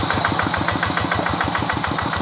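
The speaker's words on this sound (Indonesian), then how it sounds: "dengan produksinya dari Kubota seperti ini suaranya, ciri khasnya ya, suara seperti ini" A Kubota diesel tractor engine chugs steadily nearby with a fast, even knocking rhythm, running alone without any talk.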